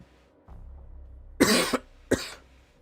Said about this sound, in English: Oh, got a cough.